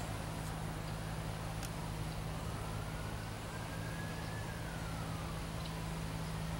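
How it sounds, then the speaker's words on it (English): A distant siren wails faintly, its pitch slowly rising and falling, beneath a constant low hum and steady background noise. "hear the sirens"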